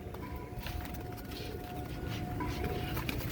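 Kamangar Kasni Saleti pigeons coo softly at close range, low murmuring calls repeating under a steady outdoor background hum with no voices.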